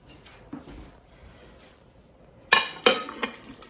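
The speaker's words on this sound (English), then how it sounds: "Just giving it a wee stir." A spoon stirs stock and meat in a cooking pot in a home kitchen, quiet scraping and sloshing followed by a couple of sharp metallic clinks against the pot.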